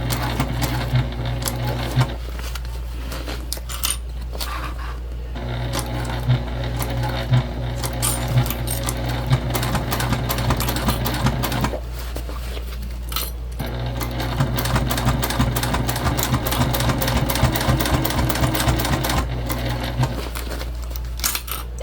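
A sewing machine stitches a travel sling bag in close, steady whirring runs, broken by a few brief pauses where the fabric is shifted.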